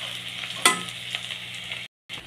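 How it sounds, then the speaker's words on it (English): Garlic, onion and ginger frying golden brown in a pan for a vegetable and fish curry, a close steady sizzle with a sharp stirring scrape near the start and a brief cut-out near the end. "Garlic, rose leaf, saute. Onion. Ginger. It got golden brown in color."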